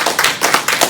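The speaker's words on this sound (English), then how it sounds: "So if y'all would give them a round of applause." Brief burst of clapping from a small group of hands at a city council meeting in Lake City, South Carolina, sounding close and uneven in a few quick pulses.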